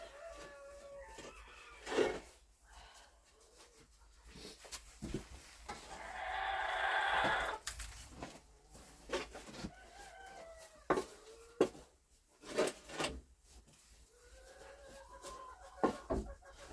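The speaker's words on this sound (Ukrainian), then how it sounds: "Одна курка лізе на іншу нестися." Hens in a yard cluck and squawk while one climbs onto another to lay, with scattered clucks, a longer noisy squawk in the middle and sharp calls throughout, fairly close, with no talk.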